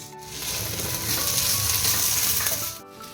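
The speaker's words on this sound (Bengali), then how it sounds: "সবজি এদিকে মোটামুটি ভাজা হয়েই গেছে আলুগুলো দেখছি গলেও গেছে আর এবার টমেটো দিয়ে দিচ্ছি" Vegetables and softened potatoes frying in a pan as tomato goes in, a loud, steady sizzle that swells and then drops off near the end, with no talking.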